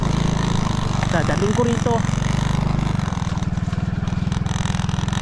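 A Suzuki trail motorcycle engine idles steadily and close up, a throbbing low chug on a muddy ride from Kayapa to Imugan, while someone speaks over it briefly.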